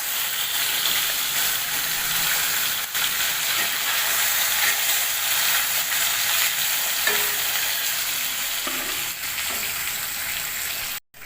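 Rohu fish pieces frying in hot oil in a wok give a loud, steady broadband sizzle that runs unbroken for about eleven seconds, with faint stirring clicks and no talking.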